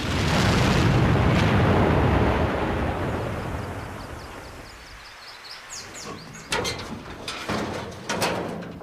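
A blast test against an armored vehicle: a loud, sustained roar of explosion dominates the start and gradually fades over several seconds, followed by quieter sharp clattering and debris-like bursts near the end.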